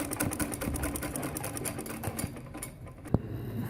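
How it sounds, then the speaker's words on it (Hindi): A sewing machine runs steadily, stitching a waistband belt onto a Patiala salwar, its rapid needle chatter continuous and close, slowing to a stop near the end with a single sharp click. "अब मैं बेल्ट को और शलवार को इकट्ठा सीने लगी"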